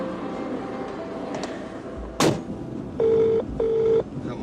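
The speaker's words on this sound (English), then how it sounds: "Come on, answer the phone." A telephone rings while someone waits for an answer, giving two steady electronic ring bursts in a row, heard faintly after a brief door-like clunk in a quiet room.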